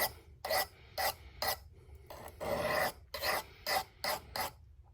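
A Civivi Nitro-V knife with a green canvas Micarta handle is drawn across a sharpening stone in about nine rasping strokes, each a short gritty scrape, one longer stroke in the middle, close and fairly loud with no talking.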